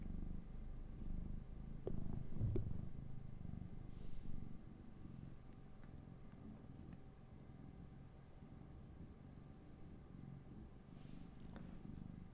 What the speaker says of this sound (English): You guys hear that purring?